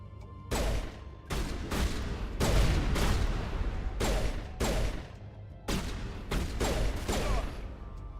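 Loud, close bursts of gunfire from a Mass Effect firefight come in several volleys, each lasting about half a second to a second, with short gaps between them.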